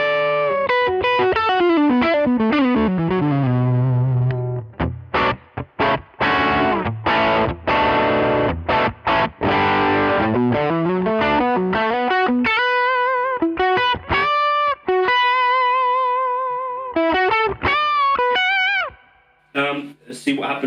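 Distorted electric guitar through a Mesa Boogie Electra Dyne amplifier plays chords and single-note lines, ringing out loud with a wash of reverb trailing each strum, playing continuously before fading near the end.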